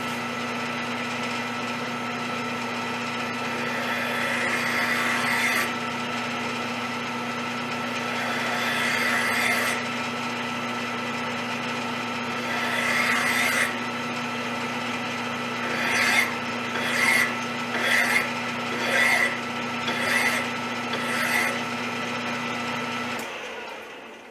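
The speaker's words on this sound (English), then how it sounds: "I'm gonna file down the roughness" Hand file rasping over rough metal on a gear cutter relieving tool part, a steady scraping texture over a constant machine hum, turning into a run of short, separate strokes near the end, with no talk.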